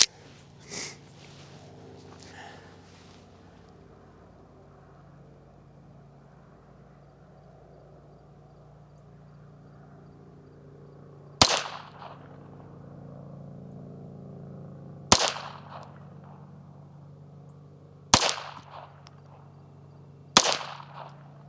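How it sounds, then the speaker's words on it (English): Rifle shots fired with Lapua ammunition at an outdoor range, four sharp loud cracks spaced a few seconds apart in the second half, each with a short ringing tail, after a quiet stretch with faint rustling. "That Lapua is so much softer shooting."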